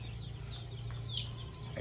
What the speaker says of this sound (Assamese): এইখিনি পুৰা অৰিজিনেল লোকেল মুৰ্গী পোৱালি হয়